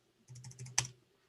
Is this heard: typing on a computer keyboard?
yes